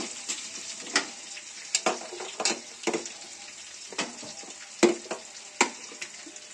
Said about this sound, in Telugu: ఈ తాలింపు వేగితే బయట వరకు కూడా స్మెల్ వస్తుందండి బాగా